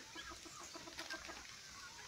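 A rooster crows faintly from the back of a farm at dawn, with short clucking-like calls over a quiet, hissy outdoor background.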